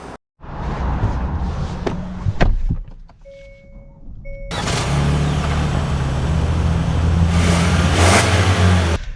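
A 2024 Hyundai Santa Fe XRT pulls away, its engine rising into a loud, steady drive with continuous road and engine noise after a short quieter stretch.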